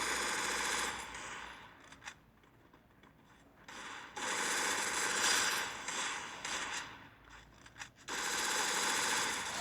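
Long automatic bursts of gunfire in a mobile shooter video game, loud and sustained, broken by short quieter pauses with mechanical rattles, no talk.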